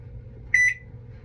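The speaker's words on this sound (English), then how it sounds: "Should I turn the microwave on for a second and then like open it up" A kitchen microwave oven gives a short electronic beep, a clear double-pulsed tone close by against a low background hum, with no talking.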